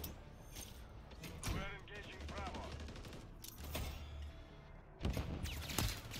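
Gunfire rattles in a Modern Warfare 3 ranked Control match. Bursts of rapid shots, quiet and fairly distant, come in clusters, and voices talk over them.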